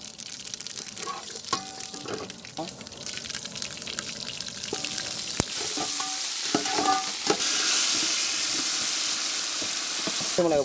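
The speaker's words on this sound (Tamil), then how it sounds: "கடுகு உளுந்து போட்டுக்கிறோம்" Mustard seeds and urad dal frying in hot oil for lemon rasam at a wedding feast kitchen, with a steady close sizzle, scattered popping crackles and stirring scrapes that rise to a loud, dense hiss near the end.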